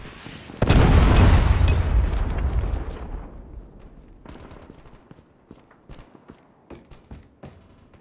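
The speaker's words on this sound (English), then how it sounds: "Friendly predator missile inbound." In the Call of Duty Mobile shooter game, a predator missile strike lands with a loud, booming explosion that rumbles for a couple of seconds, followed by scattered bursts of sharp gunfire.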